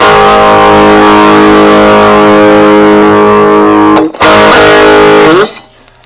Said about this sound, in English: we'll engage the overdrive